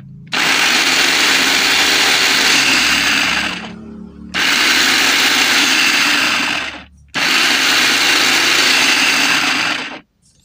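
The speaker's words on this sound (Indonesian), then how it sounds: "Ini kalau kita tekan, mata pisaunya bakal muter." A Lesindo blender runs with its blades spinning in three loud, steady bursts of about three seconds each, separated by brief silent pauses. No one speaks.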